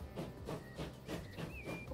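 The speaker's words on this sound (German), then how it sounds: "da fahren wir hier einfach mal mit einem Zug" A train rolls along in the simulation game Transport Fever 2, giving a soft, rhythmic chugging hiss that pulses about four times with faint whistle-like tones, quiet and without talk.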